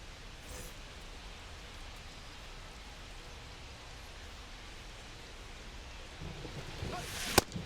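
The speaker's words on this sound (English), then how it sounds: "It feels like we might be headed towards a rain delay if the weather doesn't ease up" Steady rain in the baseball video game MLB The Show 25, at a Marlins versus Guardians game in Cleveland, makes an even, soft hiss throughout, with a sharp click near the end.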